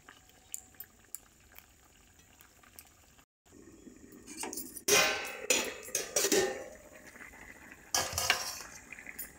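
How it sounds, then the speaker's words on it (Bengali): Fish pieces drop into a simmering cauliflower and potato curry, giving a loud burst of sizzling and bubbling with stirring clatter that follows a short pause after quieter simmering. "ফুলকপি আলু সিদ্ধ হয়ে গেছে, ওর মধ্যেই মাছগুলো এবার দিয়ে দেবো।"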